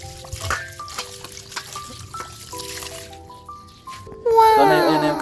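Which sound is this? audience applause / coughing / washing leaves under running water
washing leaves under running water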